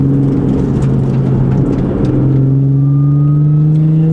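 Audi S4 engine revs loud and close, a steady droning tone that climbs gradually in pitch as the revs rise, with no talking.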